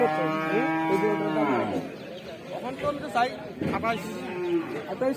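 Cattle at a busy cow market, one loud close drawn-out moo followed by shorter lowing calls, with people talking in the background.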